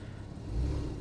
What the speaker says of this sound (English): So it's quite a bit more muted, and then if I turn it back on again, it gives a much gruffer sound.